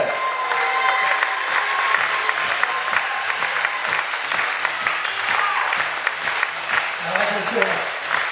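A large audience at a Port Camargue resort presentation applauds loudly and steadily for the chief hostess, a dense, continuous roar of clapping that fills the room.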